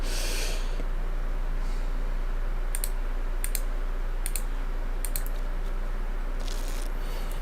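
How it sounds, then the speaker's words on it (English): Several sharp clicks, likely from a computer mouse, come in short bursts near 2.8, 3.5, 4.3 and 5.2 seconds over a steady background hum. They are close and fairly crisp, and no voice is heard. "I can hear all the clicks that I'm making."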